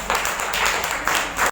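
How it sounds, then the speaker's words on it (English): An audience applauds after a healing demonstration session, a continuous medium-loud patter of clapping that swells in waves and cuts off abruptly. "Give her an applause."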